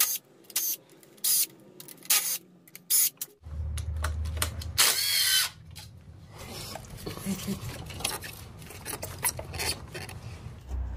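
Metal tools work loose intake bolts and parts on a Subaru 2.5L engine, with sharp clanks, short ratcheting bursts and scattered metallic clatter, near and uneven, separated by brief quiet gaps.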